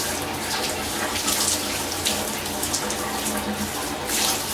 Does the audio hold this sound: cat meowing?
no